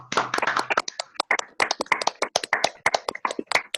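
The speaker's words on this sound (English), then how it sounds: "Can we have another massive round of applause for Miller van der Haaf?" A few people clap close to their microphones for a round of applause at a Zoom poetry open mic, with quick, uneven, overlapping claps throughout.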